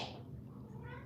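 A cat meows in a room, one short close call that rises then trails off, heard faintly against a quiet background.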